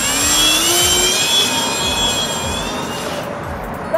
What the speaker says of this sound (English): There goes the motor!